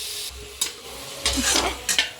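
Onions stir-fry in oil in a kadai during a home dinner cook, with a soft sizzle broken by several scraping spatula strokes against the pan, close and fairly clear.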